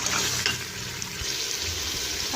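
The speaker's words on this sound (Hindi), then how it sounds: "मैं इसके अंदर हाफ जग पानी ऐड कर रही हूँ" Half a jug of water is poured into a cooking pot of goat trotters being made into mutton paya, making a brief, soft splashing gurgle close by.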